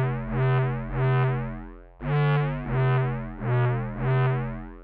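Deep neuro bass notes synthesized in Ableton Operator, an octave lower, with a growling, buzzy timbre, played in a slow repeating pattern of sustained pulses, each swelling and fading, no voices.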